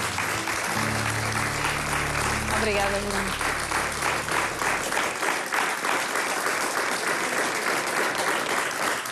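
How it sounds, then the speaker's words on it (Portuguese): An audience applauds after a children's story reading on a TV show, a dense, steady wash of clapping that runs throughout, with a woman's brief spoken thanks heard under the claps early on. "Agora podem bater palmas."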